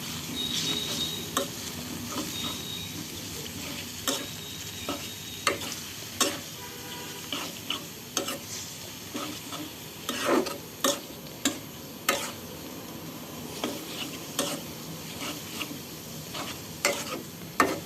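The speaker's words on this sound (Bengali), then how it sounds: "2-3 মিনিট মানে তেলের মধ্যে দিয়ে লাড়াচাড়া করবেন।" Chapa shutki, a dried fish, fries in oil while being stirred. A moderate sizzle runs throughout, punctuated by regular sharp clicks and scrapes of the utensil against the pan.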